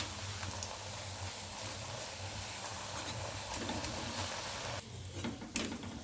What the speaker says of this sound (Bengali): তো চলো আর কটা ভেজে নিই।